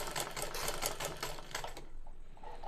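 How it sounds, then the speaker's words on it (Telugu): A sewing machine rattles rapidly as it stitches cloth around a round neckline, a close, steady mechanical clatter that slows and stops partway through, leaving faint room sound. "మనం మిషన్ అన్నది రన్ చేస్తే సరిపోతుంది"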